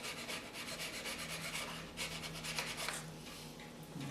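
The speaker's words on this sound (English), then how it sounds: "cleaned it up with a flat file" A flat file rasps quickly back and forth, faint and close, cleaning up a part on a Hi-Point Model 995 TS 9mm carbine in steady short strokes.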